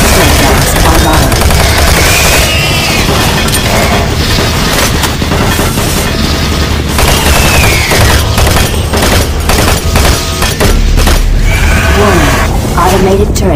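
Automated turret guns in Doom 3 fire in a loud, dense, chaotic barrage, rapid shots and booms running nonstop under a thick wash of game noise.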